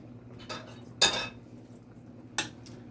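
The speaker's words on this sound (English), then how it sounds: "Give it a stir." Sweet peppers being stirred into a pot of stewed tomato cod, with a few clinks and scrapes of a utensil against the pot at close range, brief and separated by quiet.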